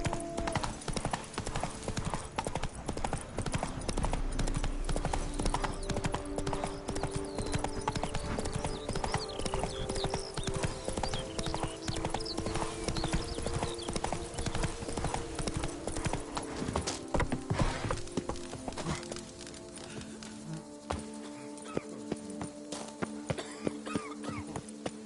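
Roach the horse galloping in The Witcher 3, a fast continuous clip-clop of hooves close by, layered over background game sounds and easing off near the end.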